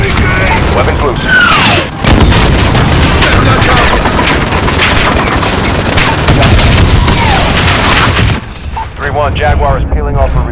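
Aircraft weapons fire and explosions from a Call of Duty Modern Warfare mission keep up a dense, loud barrage of gunfire and booms, with shouted radio voices over the battle.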